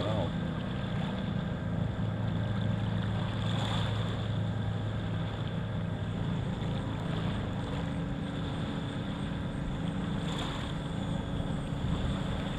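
A small radio-controlled model airplane with flaps flies slowly nearby, its propeller and motor giving a steady, continuous drone under outdoor ambience for the whole stretch.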